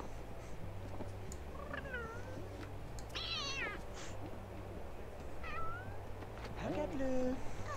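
Pura, a pet cat in The Sims 2, lets out a series of short meows and trills over a steady low game hum, spaced across several seconds, close and fairly clear.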